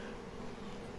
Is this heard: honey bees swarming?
yes